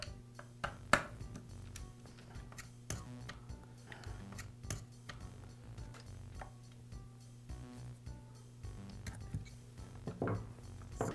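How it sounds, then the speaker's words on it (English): Small metal clicks and taps come from screws and the oil pump assembly being removed from a Poulan chainsaw, with scattered sharp ticks and light scraping over a low steady hum, fairly close and quiet. "Now I can remove the oil pump assembly. It's held in place with 2 screws."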